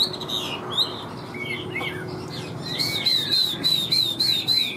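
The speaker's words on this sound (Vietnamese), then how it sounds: "Anh em mình treo chim cho nó hót." A Chinese hwamei songbird, a caged male with yellow legs and beak, sings in a series of bright rising and falling whistled phrases, close and clear over a steady low background hum.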